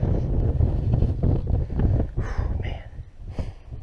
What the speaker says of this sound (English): Feel the wind picking up now.